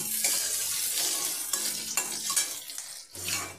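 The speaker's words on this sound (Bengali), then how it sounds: "তেলটা আমার গরম হয়ে গিয়েছে, এখানে লঙ্কা পেঁয়াজ দিয়ে দিলাম।" Green chili and onion frying in hot oil, a crackling sizzle broken by frequent stirring scrapes and light taps of a spoon on the pan, close by, no voices.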